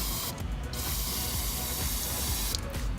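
Bursts of aerosol cleaner spray hiss close by onto a car's MAF sensor, a short spray early and another near the end, over a steady background hiss and faint mechanical clatter.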